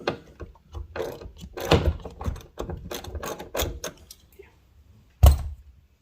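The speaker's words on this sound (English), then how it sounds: "Now I'm going to start this bolt with this ratchet, so I make sure I don't strip it." A hand ratchet clicks in quick, uneven runs while starting a seat belt bolt in a 1989 Chevy S10, close up, followed by a pause and a single louder clunk.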